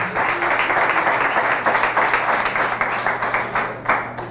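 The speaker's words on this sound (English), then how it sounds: "Let's give him a round of applause." A lecture audience claps for the author Black Dot, a dense round of hand claps with audible individual strikes and a steady low hum beneath, loud and sustained before fading at the end.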